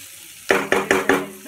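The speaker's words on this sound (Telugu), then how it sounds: "ఆనియన్ని బాగా ఫ్రై చేసుకోవాలండి. సిమ్లో పెట్టి ఫ్రై చేద్దామండి." Onions fry in a pan over a low flame, with four quick, evenly spaced stirring scrapes cutting through a soft sizzle that sits close and moderately loud after a brief quiet start.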